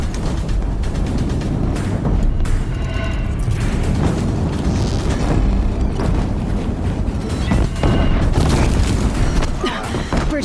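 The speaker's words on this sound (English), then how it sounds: "If the Deathbringers keep firing, this bridge will go!" Heavy explosive barrages from Deathbringer war machines pound a bridge in Horizon Zero Dawn, a loud, continuous roar of booms and bursts with crackling debris that swells and surges throughout.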